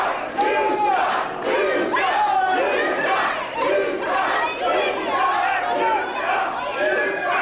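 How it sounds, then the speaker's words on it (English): A wrestling crowd chants loudly and continuously in an arena during a pro match, many voices rising and falling together in a dense, rhythmic roar with no pause. "Crowd chanting there, big time."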